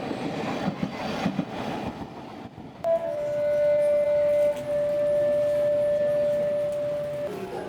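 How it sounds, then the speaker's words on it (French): A city tram in a small Japanese town passes nearby with a loud, sustained rumble and a steady high tonal whine or squeal lasting several seconds, following softer street ambience. "C'est aussi l'une des dernières villes qui possède un tramway et c'est tout à fait charmant."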